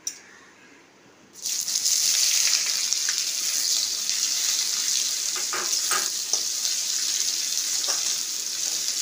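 Onions for chicken curry dropped into hot oil and sugar in a pan, bursting into a loud, continuous close sizzle after a brief quiet start, with a few faint stirring scrapes.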